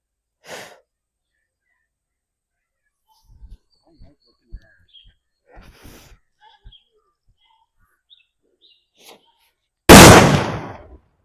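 A Valangaiman country firecracker goes off in one loud, close blast with a decaying rumble, after a long quiet stretch of faint rustles and small knocks.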